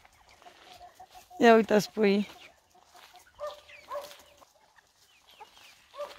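A hen with her chicks clucks in a backyard garden, a few loud nearby bursts early on followed by softer scattered clucks and peeps, with someone talking over them.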